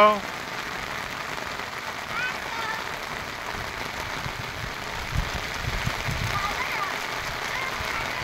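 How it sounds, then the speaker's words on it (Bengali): Steady rain falling on surfaces outdoors, a soft continuous patter that stays even throughout, with a faint engine-like hum underneath and voices heard in the background. "বৃষ্টিতে ভিজতে অনেক মজা।"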